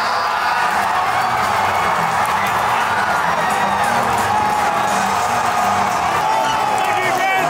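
A crowd at a Dodgers baseball game makes a dense, steady roar of cheering and chatter that fills the space without pause, loud and enveloping around the listener.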